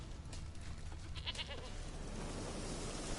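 A goat bleats in the Witcher 3 video game, a short wavering cry in the middle of a steady low wind-like background, fairly faint and alone without talk.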